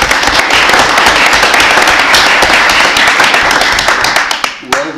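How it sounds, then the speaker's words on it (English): Applause at a city council meeting, a dense sustained crowd clapping that fills nearly the whole stretch, then thins and trails off near the end. "I'm clapping too, Donna."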